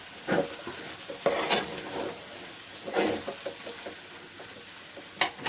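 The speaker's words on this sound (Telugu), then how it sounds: "బాగా కలపాలి." Curry being stirred in a frying pan on the stove, a steady sizzle broken by repeated close scraping strokes of a spoon against the pan, with no talking.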